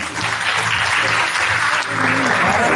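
Audience at an international congress gives a round of applause, dense continuous clapping filling the hall from start to finish.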